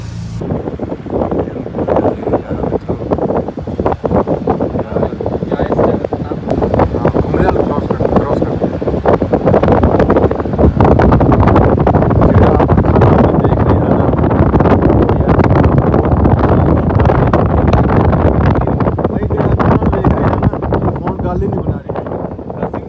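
Strong wind buffets the microphone in the Lolab Valley of Kashmir, a loud, continuous rushing roar that swells through the middle, with faint voices underneath.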